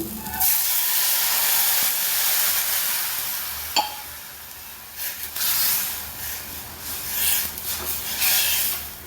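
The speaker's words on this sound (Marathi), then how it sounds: "छान अशी उकळी आलेली आहे" A peanut chutney mixture of ground peanuts, coriander and water boils in a pot with a steady loud hiss and bubbling, with a few sharp clicks and fluctuating surges over about nine seconds.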